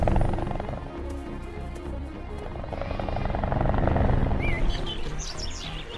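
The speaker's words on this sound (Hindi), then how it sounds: "सारे हेलीकॉप्टर्स नदी के पास आ जाते हैं" Helicopters flying in an animated scene near a river, a loud continuous low rotor thrum filling the stretch, with bird chirps rising toward the end.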